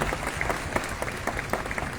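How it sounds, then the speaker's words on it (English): An audience at a summit event applauds, a dense patter of claps at moderate distance, fairly steady with scattered sharper hand claps standing out. "This celebration, now we can clap"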